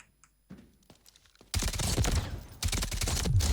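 Rapid gunfire from an MK47 rifle in the shooter game Delta Force, a few quiet clicks giving way to loud, dense bursts of automatic fire that run steadily to the end.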